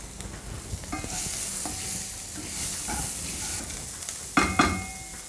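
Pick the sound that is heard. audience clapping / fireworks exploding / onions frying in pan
onions frying in pan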